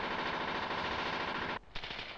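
Machine gun supporting fire during village-fighting drills in a 1979 British Army training film, a loud continuous burst of rapid shots that cuts off abruptly near the end, followed by a few fainter shots.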